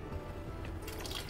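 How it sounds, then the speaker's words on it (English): Water poured from a glass into a pan of thickening milky sauce for beef steaks, a soft close liquid trickle with faint dripping that builds in brightness toward the end. "And then I'm going to add half a glass of water because I don't like it too milky."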